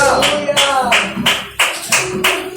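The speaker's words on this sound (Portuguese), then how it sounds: "Pode aplaudir ao Senhor." A church congregation claps in praise during a worship service, steady rhythmic applause filling the room in loud bursts.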